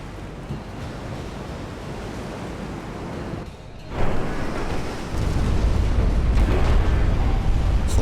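A shell striking the ship Chicago in Ultimate Admiral: Dreadnoughts, a loud rumbling impact that swells suddenly over a constant roar of sea and wind, followed by a heavier sustained boom.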